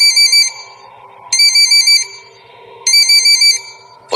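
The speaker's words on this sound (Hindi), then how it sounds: "तभी उस शांति को भंग करते हुए पुष्कर का फोन बजा" A phone ringtone rings in three loud, bright bursts, each about half a second, separated by roughly a second of quieter hum in an otherwise still room.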